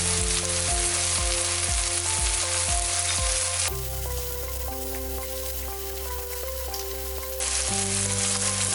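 Corn tipped into a hot pan of cabbage and vegetables for a chicken vegetable soup sets off loud, close sizzling and frying, with rhythmic stirring scrapes at first, then a denser, more even hiss, and no talk.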